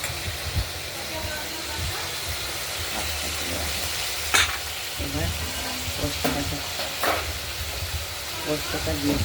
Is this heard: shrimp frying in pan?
yes